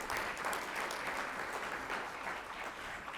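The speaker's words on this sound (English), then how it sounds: "Let's give them a round of applause" An audience at the 2022 Minnetonka State of the City event applauds two former mayors, Jan Callison and Terry Schneider, with steady, dense clapping throughout at a moderate distance.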